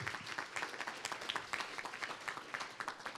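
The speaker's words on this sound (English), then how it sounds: "don't applaud after everybody, please" A lecture audience applauds steadily for the whole span, a dense, even patter of many hands clapping in a hall, moderately loud with no talk over it.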